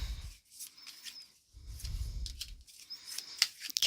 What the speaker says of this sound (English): So I'm just going to pull a couple cards.